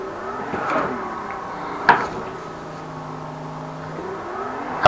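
A car drifting through a power slide and exit, its engine droning with shifting revving tones, tires scrubbing, and a couple of sharp knocks breaking through the steady drone.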